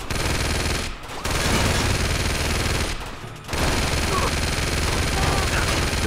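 Machine gun turret firing in Uncharted 2, long loud bursts of rapid automatic shots broken by two short pauses, close and dense, with a voice partly buried under it.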